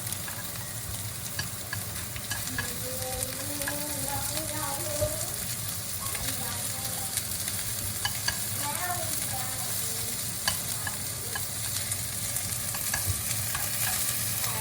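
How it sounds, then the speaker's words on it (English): Small pieces of beef fat render in a pot for sukiyaki hotpot, sizzling steadily and crackling up close while being turned, with faint stirring scrapes throughout. "I'm just turning the little pieces of fat all around to render"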